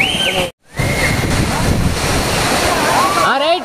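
Gundala waterfall in Telangana pours in a steady, loud rush of water that fills the scene, broken by a brief dropout near the start and a few faint voices at the end.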